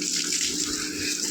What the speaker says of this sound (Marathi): बाल्कनीला पाणी मारत आहे